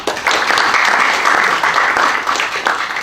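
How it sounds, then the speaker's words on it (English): A council audience claps for councillors and the families who helped, a dense, steady round of applause that fills the room throughout, with a slight dip near the end. "I think we owe them a round of applause too"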